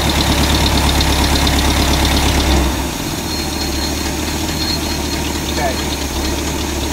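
A tractor engine with a leaking carburetor idles loudly with a heavy rhythmic knock, then its pitch drops and the rumble steadies at a lower idle.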